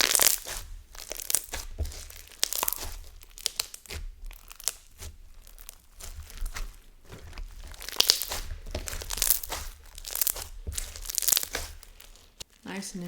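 Crackly, crispy squishing and popping of thick slime, with bursts of crinkly pops and tearing sounds close to the mic, continuing steadily throughout.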